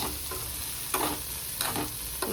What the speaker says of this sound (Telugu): అట్టికాయ ఫ్రై అయితే చేస్తున్నాను